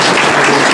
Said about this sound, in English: Could I ask for a round of applause from the candidates?